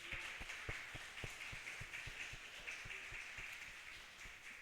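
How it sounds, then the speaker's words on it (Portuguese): A congregation applauds in welcome of pastors, a faint, thin burst of clapping with sharp scattered claps over a soft background hiss. "Vamos recebê-los ainda com uma salva de palmas"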